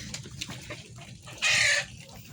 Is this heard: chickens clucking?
yes